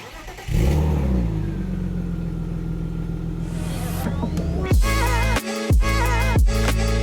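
A BMW E36 M3 Lightweight engine revs up and accelerates hard while driving, a loud steady in-cabin drone rising in pitch, then sharp gear changes with brief dips before the engine pulls again.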